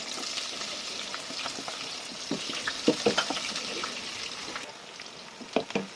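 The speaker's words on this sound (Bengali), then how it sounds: "পেঁয়াজটা আমি হালকা ভাজা করে নিলাম" Onions frying in oil in a pan with bay leaf and cinnamon, a soft steady sizzle with intermittent stirring clinks and scrapes, fairly quiet and close.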